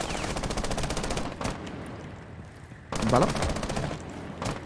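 Bursts of automatic gunfire from the tactical shooter Rainbow Six Siege crackle in rapid repeated volleys, with a brief spoken word in between.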